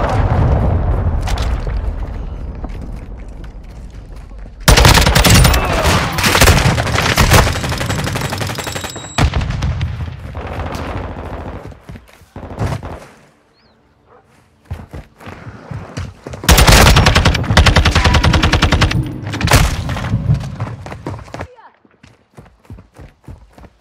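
TAQ 56 assault rifle (FN SCAR-L) firing in Call of Duty: Modern Warfare II on the Mercado Las Almas map, loud rapid bursts in two long volleys separated by a quieter lull, with explosions and radio chatter in the mix.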